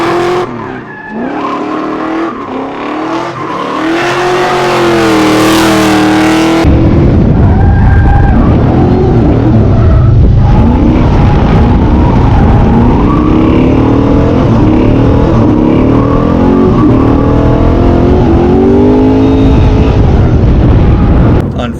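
A loud, throaty LS V8 in a Nissan 240SX S13 drift car revs hard with tires squealing and skidding, the roar rising and falling as the car drifts close by.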